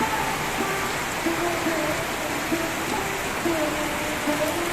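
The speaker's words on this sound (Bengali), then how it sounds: "পুরো মধ্যে সব জল জমছে করে পড়ছে কি বৃষ্টি হচ্ছে" Heavy rain pours down in a dense, steady hiss, with a faint tonal hum and low voices barely audible underneath.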